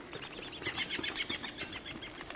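Birds chirp and call in the video game Don't Starve, a quiet, steady twittering that runs through the whole stretch with no talk over it.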